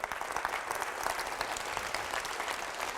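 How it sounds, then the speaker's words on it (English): A school auditorium audience of nearly a thousand people applauding, dense continuous clapping from a large crowd throughout, fairly even in level. "Give yourselves a round of applause"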